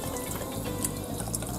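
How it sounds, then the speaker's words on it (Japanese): Seafood being rinsed in salt water in a sink, a steady close splashing and trickling of running water with small drips and sloshes throughout, no talking. "これ塩水で洗います"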